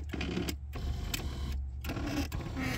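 A car's power seat motor driven by the seat switches, close-up whirring in several short runs separated by brief silent pauses.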